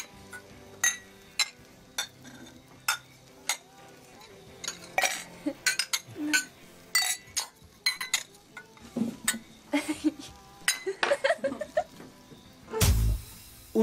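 Glasses clink in a toast at a gathering, a string of bright, sharp chinks and clinks spaced irregularly with some cutlery-like rattles, ending in a louder clatter near the close.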